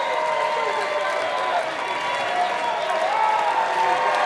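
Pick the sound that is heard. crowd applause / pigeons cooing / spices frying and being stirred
crowd applause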